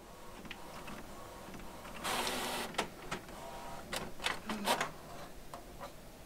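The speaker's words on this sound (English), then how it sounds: "Once you hit print, then the computer will take over and it will send that particular file over to your printer." A home printer running a photo greeting card job: a burst of mechanical whirring followed by a series of short clicks and ticks from the paper feed, close and moderately loud against a quiet room.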